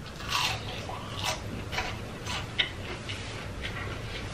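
Crunchy bites and chewing of Zaxby's onion rings, close to the mouth, with repeated crisp crackles spread over a steady low background.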